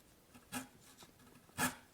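A hand chisel pares wood while a hinge mortise is chopped, making two short, quiet scraping strokes about a second apart against a faint background.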